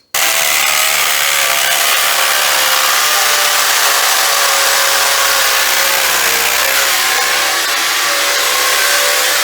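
A power drill bores a hole into a basement foundation wall during a bowing-wall repair, a loud, steady grinding roar that runs unbroken from start to finish with no voices over it.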